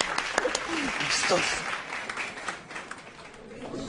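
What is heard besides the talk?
audience applause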